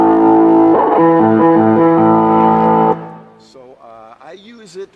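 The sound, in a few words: bass guitar through distortion effect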